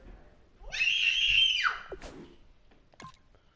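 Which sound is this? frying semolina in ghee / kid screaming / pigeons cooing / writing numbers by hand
kid screaming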